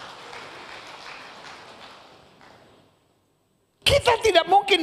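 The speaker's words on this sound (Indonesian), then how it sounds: "Yang setuju berikan tepuk tangan yang meriah buat Tuhan." A church congregation applauds during a sermon with a dense, hissing wash of clapping that steadily fades to silence. A voice then starts speaking loudly and close by.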